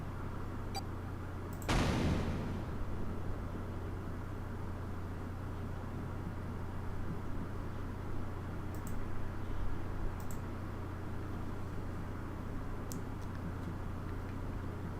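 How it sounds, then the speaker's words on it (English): A single short explosion burst from the video game 9 Hours, 9 Persons, 9 Doors erupts near the start and fades quickly over a steady low background hum, followed by faint scattered ticks. "The explosion rocked the room"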